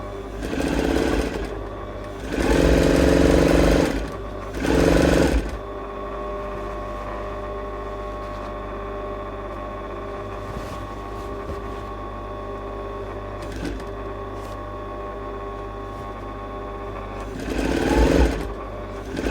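Sewing machine stitching the lining seam of a sleeveless dress, heard as a loud close whirring run, two short bursts, then a long quieter hum and a final burst near the end, with no one talking.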